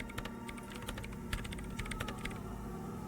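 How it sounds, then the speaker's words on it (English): Rapid keyboard typing as commands are entered into a machine in Disco Elysium, dense irregular key clicks throughout over a low steady hum. "Her hands typing hundreds of commands into the machine."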